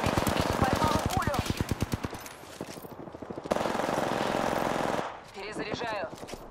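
Rapid automatic gunfire from the video game Apex Legends rattles in long, evenly spaced bursts that alternate with quieter gaps and a steady mechanical hum, while a player speaks over parts of it.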